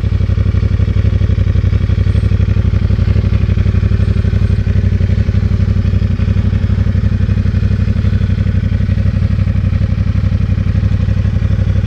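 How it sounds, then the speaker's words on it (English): A CFmoto 450SS motorcycle idles close by with a steady, even, loud rumble and a fine rhythmic patter. It runs unchanged throughout with no voices. "This is the tone that you get from the bike idling"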